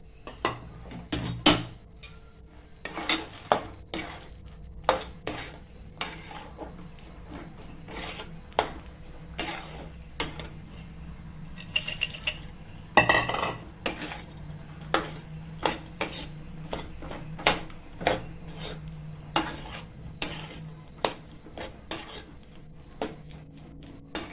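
Peanuts being stirred into melted jaggery in a pan for homemade peanut chikki, with a steady run of sharp spoon scrapes and clinks against the metal, repeating every second or so over a quiet low hum.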